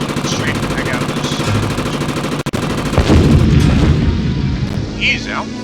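Anti-aircraft and machine gun fire in the Beyond Pearl Harbor flight combat game, a continuous rattling barrage with deep booms, a brief cut then a heavier explosion, while someone talks over it.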